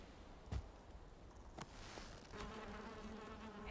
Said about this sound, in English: Bees are out there stinging them.